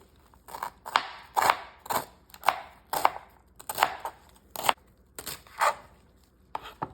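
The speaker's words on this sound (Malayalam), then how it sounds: "കഴുകി വൃത്തിയാക്കി എടുത്ത് ചീര ചെറുതായിട്ട് അരിയണം" Washed spinach being finely chopped with a knife on a board: about a dozen crisp, sharp cuts in an uneven rhythm, close and clear with no talk.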